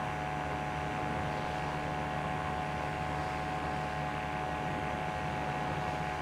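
Top Rudder 103 Solo ultralight engine at full throttle in Microsoft Flight Simulator, a steady droning hum with layered harmonic tones that holds constant and close for the whole stretch, no voices.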